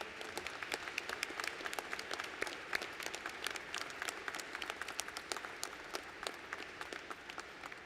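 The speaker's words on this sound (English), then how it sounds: "A big round of applause." Sustained applause from a large audience at a college presidential inauguration ceremony, many hands clapping steadily with sharp individual claps standing out, moderately distant and continuous throughout.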